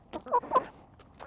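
Backyard hens in a coop give a few soft, short clucks in quick succession, fairly quiet against a still background.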